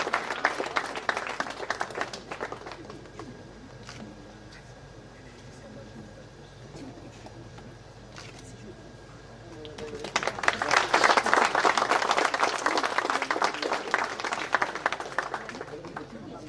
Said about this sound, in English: Sous vos applaudissements nourris, j'espère.